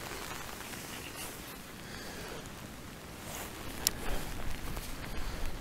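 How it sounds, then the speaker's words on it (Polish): Rain falls steadily during a feeder fishing competition at Jaraczewo, making a dense, even patter with scattered louder drops and some rustling near the end. "Dobrze, że deszcz karasiom nie przeszkadza,"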